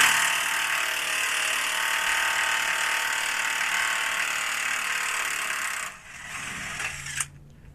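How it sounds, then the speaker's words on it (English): A ratchet clicks steadily and rapidly while bolts holding up a heavy truck bumper are removed, close and continuous for about six seconds before stopping, followed by faint clatter. "taking out the bolts that hold it up"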